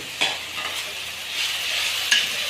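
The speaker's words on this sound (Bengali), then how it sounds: "দেখতে পাচ্ছেন আমাদের মশলাগুলো আগে একটু ভাজা নিতে আসছি।" Whole spices for a duck curry fry in a pan with a close, steady sizzle, and two sharp utensil clinks mark the stirring. No one speaks.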